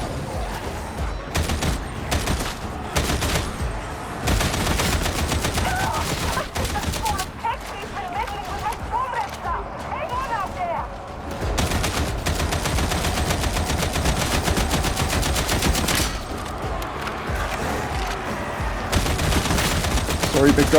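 Rapid gunfire with heavy recoil in Warhammer 40,000: Darktide, sustained automatic bursts hammering almost continuously and loud up close, while someone speaks over the shooting.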